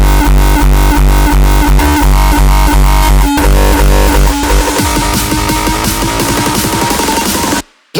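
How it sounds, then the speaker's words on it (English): Loud up-tempo drum and bass beat with a heavy kick drum standing in for the bassline, fast regular hits with layered synth tones, cutting out abruptly near the end. "Maybe try a drum and bass beat underneath and use the kick as a bass for that."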